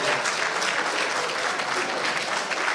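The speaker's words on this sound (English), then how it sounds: "Let's put our hands together for Mr. President" Loud, continuous audience applause for the President at a political gathering, a thick steady wash of clapping with no break.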